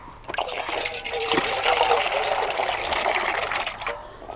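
Water is poured over cut breadfruit (kadachakka) for a Kerala-style dish, giving a steady, close splashing gush that swells and holds for a few seconds before easing off.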